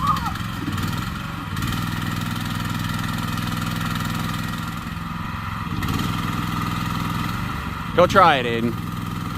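A small excavator's engine runs steadily at a close, constant idle, with a brief louder rev near the end and people talking over it.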